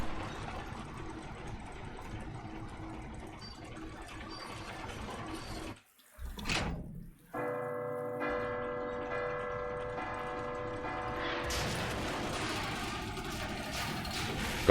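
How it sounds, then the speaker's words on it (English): Bells ring out in a Resident Evil 2 or 3 remake, a sustained tolling with long resonant tones following a brief hush, over a rushing, watery background. "I like bells. I think bells are quite cool."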